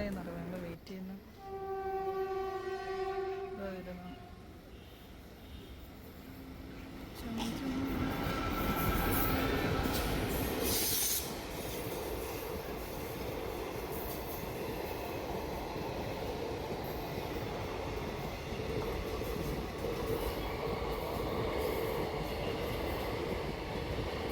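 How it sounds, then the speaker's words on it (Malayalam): A train rumbles past close by at a railway level crossing with a loud, sustained roar and rattling wheels, preceded by crossing warning bell or horn tones and faint background voices. "ഏതോ റെയിൽവേ ഗേറ്റിൻ്റെ അടുത്ത് എത്തിയിട്ടുണ്ട് ട്രെയിൻ വരാൻ കാത്തിക്കുക ട്രെയിൻ പോട്ടെ"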